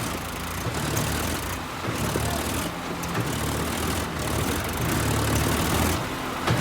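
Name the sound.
tractor engines idling during towing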